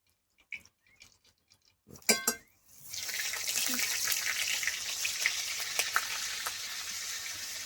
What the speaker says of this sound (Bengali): ওই তেলের মধ্যে আমি একটু বাটার দিই।